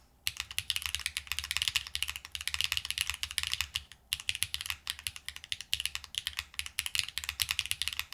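Rapid, steady typing on an Agar Micro keyboard with HMX Snowfall switches and an aluminum plate with foam, a dense stream of crisp close keystrokes with one brief pause and no talking.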